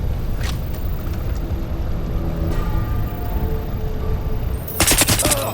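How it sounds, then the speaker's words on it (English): Gunfire in the shooter Crysis Remastered, scattered distant shots over a constant low rumble of battle ambience, then a louder close burst of rapid shots near the end, with no talking. "Taking fire!"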